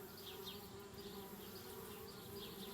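Bees buzz steadily around a hive in the Anna's Quest video game, a continuous faint droning hum with no talking.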